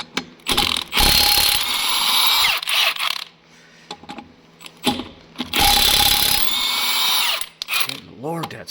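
A power tool loosens rusty lug nuts on a cheap, corroded truck in two long, loud grinding, ratcheting bursts separated by quieter gaps. A brief voice is heard near the end.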